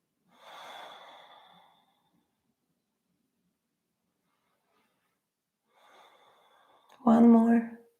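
Deep breathing held through a yoga pose: a long soft inhale, a quiet pause, then a slow exhale ending in a louder voiced sigh, close to the listener.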